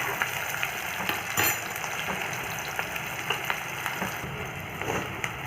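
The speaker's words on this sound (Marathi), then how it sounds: "तेल तापल्यानंतर हे तीन मध्यम आकाराचे कांदे बारीक चिरून घेतले आहे मी हे टाकून घेते याच्यात" Three finely chopped medium onions dropped into hot oil for mushroom masala, giving a continuous soft sizzle with scattered clinks and stirring scrapes, close and moderately quiet.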